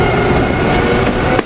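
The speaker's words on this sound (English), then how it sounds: "Here goes the Amtrak train. Cab car 9645, leaving." An Amtrak train with cab car 9645 pulls away, a loud close rushing rumble of wheels and rail noise filling the whole moment, with a brief clack near the end.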